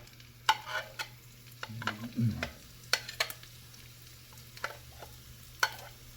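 Ginger sizzling in hot oil in a pan for Filipino arroz caldo, with a steady low fry, scattered sharp ladle scrapes and clinks, and a brief louder stir in the middle, close by.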